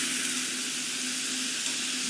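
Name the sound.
food sizzling on a grill at Chipotle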